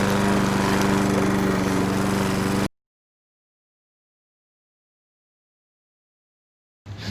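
A lawn mower engine in a video game drones loud and steady for a few seconds, then cuts to silence before the sound briefly returns at the end.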